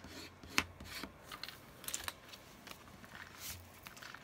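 A paper card is burnished on a craft mat: faint, quiet scraping and rubbing strokes in short, irregular bursts, heard up close with no voice.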